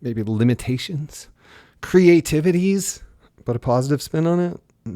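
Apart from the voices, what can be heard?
None of the usual background noises is heard.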